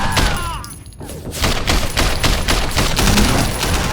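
Fireworks going off in the open-world video game Sleeping Dogs: a dense, rapid crackle of loud bursts and pops running on nearly without pause, like a barrage.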